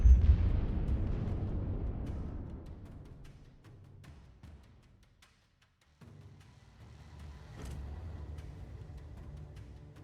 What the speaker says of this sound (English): You blew up her own ship?